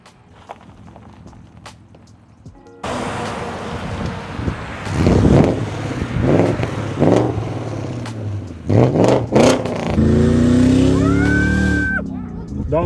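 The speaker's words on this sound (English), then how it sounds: "I can hear V8." A V8 engine in a high-mileage BMW E38 sits under wind buffeting, then revs loudly in several surges with a rising whine near the end.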